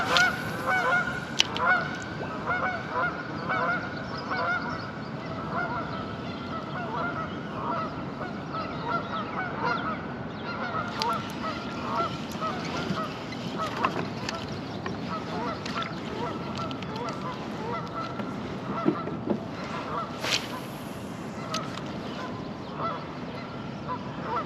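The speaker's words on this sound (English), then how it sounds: "I hate geese." Geese honking beside a river during smallmouth fishing, a loose run of repeated nasal honks at moderate distance over water and outdoor ambience, with a few louder calls standing out.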